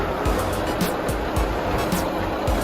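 Concrete mixer truck backing up toward a pump hopper at a garage slab pour, a steady broadband engine rumble with repeated low thumps and faint high reverse-beeper pulses, fairly close and continuous.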